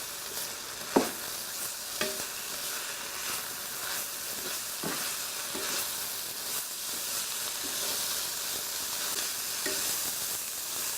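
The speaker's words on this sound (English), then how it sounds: "just mix it all that through" Paleo pork fried rice stir-fried and mixed in a pan gives a steady, close sizzle and hiss throughout, with a few sharp knocks and scrapes of the utensil. No talking.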